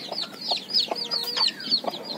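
Backyard chickens clucking and calling close by in a repeated series of short, bright, overlapping clucks, with no talking.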